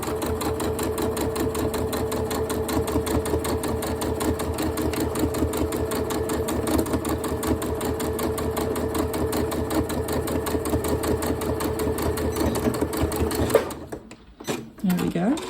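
A sewing machine runs steadily for a long stretch, sewing a back stitch on an Easter bunny fabric gift bag with a fast, even mechanical chatter, before stopping abruptly near the end amid a few handling clicks.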